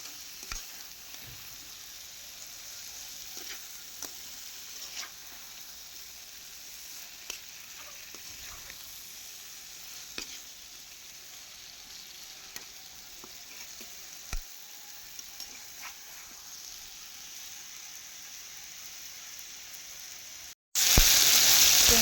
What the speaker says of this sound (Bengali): পটলটা ভালোভাবে কষাবো।